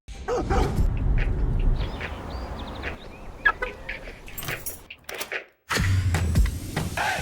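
In a car dealership advert, a dog lets out a string of sharp barks and higher yips, spaced irregularly, with a brief silent gap before a louder burst near the end.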